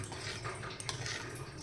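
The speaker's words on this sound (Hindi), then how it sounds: "और पीछे आपको आवाज़ आ रही होगी फ़िल्टर की।" Water filter running in a home kitchen during dinner cooking, a steady close rushing, trickling water flow like a tap filling, continuous and even throughout with no talk over it.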